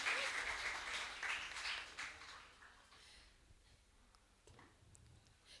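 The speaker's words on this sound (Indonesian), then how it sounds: "Mari kita beri tepuk tangan yang meriah." Audience applause at a school end-of-year party, a broad patter of clapping that starts fairly full and fades steadily into a thin, scattered tail over several seconds.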